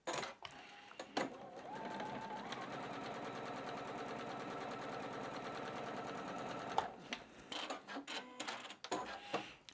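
Sewing machine stitching quilting fabric squares onto the corners of a rosette block, a steady fast mechanical whir running continuously for several seconds, starting and stopping with brief handling noises at either end.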